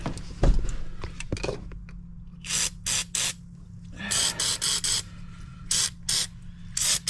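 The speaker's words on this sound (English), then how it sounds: "We'll just hit it with this rust spray." Rust-penetrant aerosol sprays on a 2014 Promaster van, a series of short hissing bursts, roughly eight or nine quick spritzes of varying length, close and moderately loud after some brief clunking handling noises at the start.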